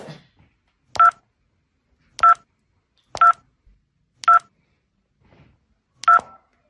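Mobile phone keypad dialing tones: five separate short beeps spaced about a second apart, clear and close, with no talk over them.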